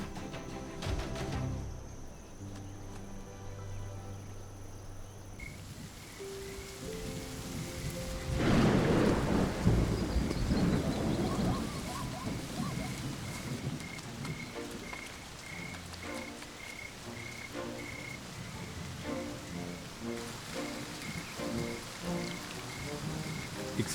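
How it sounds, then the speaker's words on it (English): Heavy rain pouring in the Serengeti rainy season, a steady wash with thunder rumbling and a loud crack midway, while frogs croak in a rhythmic chorus through the downpour. "the rain pours down in the rainy season."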